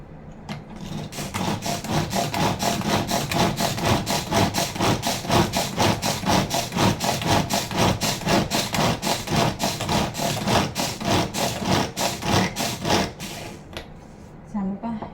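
Spices or other ingredients ground finer by hand, likely with a stone mortar and pestle, for a traditional jenang sweet; a steady, loud rhythmic scraping and rubbing runs throughout, with quick regular strokes.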